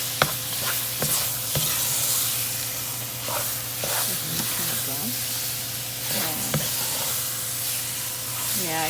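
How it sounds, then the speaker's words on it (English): Ground beef browning in a pan with finely chopped ingredients, sizzling steadily with a constant frying hiss and scattered sharp scrapes as it is stirred. "I add that to the ground beef and let them cook together, making sure not to let them burn."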